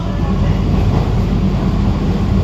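An air-conditioned EMU local train on the Sealdah–Kalyani line runs steadily, heard from inside: a low continuous rumble and hum with faint rail clatter, fairly loud and unbroken throughout.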